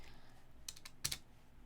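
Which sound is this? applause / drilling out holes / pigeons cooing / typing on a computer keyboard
typing on a computer keyboard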